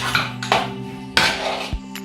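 Meat being mixed with soy sauce in a pot: a spoon scraping and clanking against the metal in a few loud, uneven strokes, close up and without talk.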